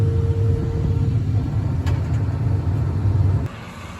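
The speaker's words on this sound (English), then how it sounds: "this is my first time ever driving an S-Series combine" A John Deere S-Series combine harvester fitted with a corn head runs with a steady low engine rumble and drone, close and loud, before the sound drops off near the end.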